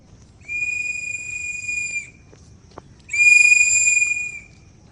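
Two long, clear whistles sound outdoors, a steady high tone with a softer overtone above it, separated by a pause and a brief click, the second louder and closer.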